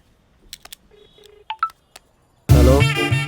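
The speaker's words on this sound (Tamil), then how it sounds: "ஃபோன் பண்ணுறேன்" A phone number is keyed in as a quick series of short, clear touch-tone beeps spaced unevenly, followed by a loud burst of a music score.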